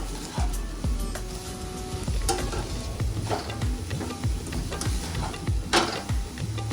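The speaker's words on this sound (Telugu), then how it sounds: "ఇది 2 నిమిషాలు సిమ్లో పెడితే కొంచెం చక్కెర మెల్ట్ అవుతుంది కదా" Sugar melts in a pan over low heat while a spoon stirs it, giving a soft, steady sizzle with regular scraping and tapping strokes, close and fairly quiet, no talking.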